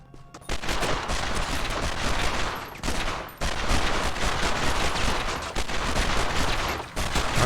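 Sustained gunfire aimed at a pillar in a Matrix game: dense rapid shots in long bursts, loud and close, with brief gaps near the third and seventh seconds and no talking.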